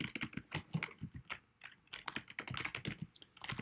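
Rapid, close keyboard typing as a login name and password are entered on a computer, a steady patter of individual key clicks with brief gaps.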